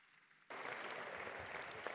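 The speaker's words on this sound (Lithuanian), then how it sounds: "Aplodismentais padėkokime visai komandai, be kurios tikrai toks renginys tiesiog neįmanomas" A burst of audience applause erupts suddenly at a Lithuanian standard and Latin dance championship, dense clapping from the crowd continuing steadily after a quiet moment.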